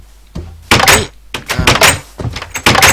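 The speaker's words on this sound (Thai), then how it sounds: "นี่คืออันใหม่ครับประตูนะครับ" In Minecraft, a new-style door is opened and closed repeatedly, giving a series of loud wooden knocks and thuds in quick succession, close and clear.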